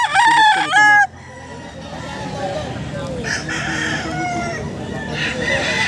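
A rooster lets out one loud, close crow at the start, then a busy, noisy background with faint fowl sounds continues.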